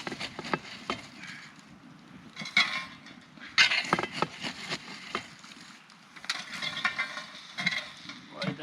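A roast cooks under hot coals at a campfire while a metal shovel scrapes and clatters as coals are piled on, with crackling hisses and bursts of scraping in irregular clusters, close and moderately loud.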